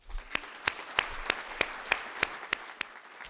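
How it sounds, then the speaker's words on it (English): Applause at the 2015 La Raza graduation ceremony comes as a sparse, even rhythm of sharp, distinct claps, one roughly every third of a second, over a quiet background. "please help me give them a round of applause"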